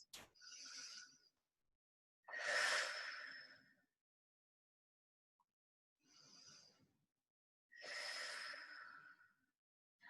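Two slow, deep breaths during a rest between exercises, each a soft inhale followed by a longer audible exhale, close and quiet with silence between them.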